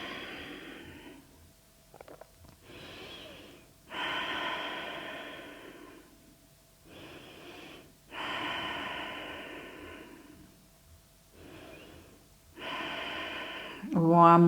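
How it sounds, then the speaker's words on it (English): Slow, deep breaths during a strong hatha yoga pose, long audible inhales and exhales alternating with pauses, close and clear, with a soft chime near the end. "Take deep breaths."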